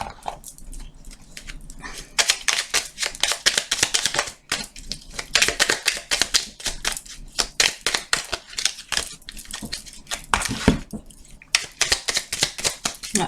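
Fairy oracle cards being handled, shuffled and drawn, producing bursts of papery riffling and flicking with short pauses between, close and fairly loud, with occasional soft taps.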